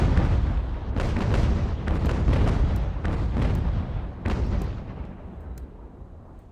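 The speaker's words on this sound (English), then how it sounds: "we're both shooting grape shot" Ship cannons fire grape shot in Ultimate General American Revolution, a ragged series of heavy booming blasts in quick succession, loud and rumbling, fading toward the end, no talking.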